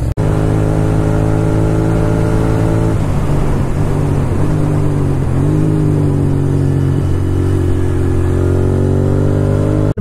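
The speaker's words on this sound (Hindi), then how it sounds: "भैया की गाड़ी भी हल्ला कर रही है" A Royal Enfield Continental GT650 twin-cylinder motorcycle idles close and loud with a deep, throbbing exhaust note, rising and dipping through several blips of the throttle on a village road near a highway.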